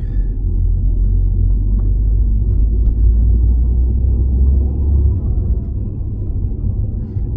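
A Citroën DS3 Performance fitted with a ProRam panel air filter accelerates, its engine giving a loud, steady low rumble that holds for about five seconds before easing off.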